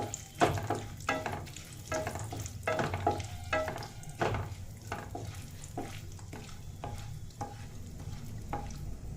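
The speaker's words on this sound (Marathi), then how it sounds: "पटकन आपले ड्रायफ्रूट्स फ्राय होतात" Dry fruits sizzle and fry in a pan for carrot halwa, with a steady close hiss broken by repeated sharp scraping strokes of a spoon stirring them.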